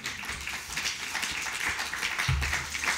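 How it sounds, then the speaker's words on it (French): A conference audience claps through a presentation on the Cinema Preservation Package at MIFC 2022, giving a steady, moderately loud patter of applause from a crowd that carries on for the whole stretch. "applaudissez-vous"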